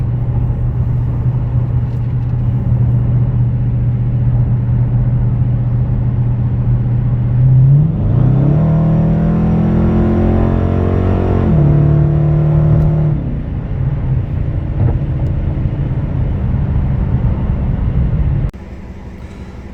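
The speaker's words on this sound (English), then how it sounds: "I did a mid-muffler delete, and this is what she sounds like." A Dodge Challenger R/T with a mid-muffler delete exhaust idles with a loud, steady rumble, then revs up in a long rising roar and drops back to idle before cutting off near the end.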